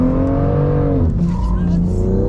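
BMW M2 with 370 hp sliding sideways in a street drift, its engine droning loudly as the tires squeal in a sustained smear, the engine pitch dropping then rising again, close and continuous throughout.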